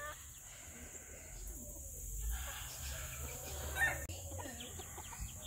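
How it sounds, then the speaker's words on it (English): A paint-colored silkie hen clucks faintly among other backyard chickens, soft, scattered calls over a quiet, low farmyard hum. "that came from Mary Carl at Cog Hill Farm, she is a paint-colored silky chicken"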